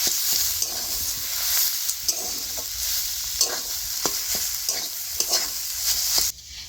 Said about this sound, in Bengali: এইবারে সব কিছু একসাথে খুব ভালো করে মিশিয়ে নেব